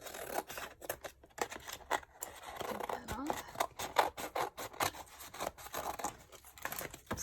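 Scissors cut along a perforated line in a sheet of scrapbooking paper, making a steady stream of quiet, close snips and rasping paper sounds.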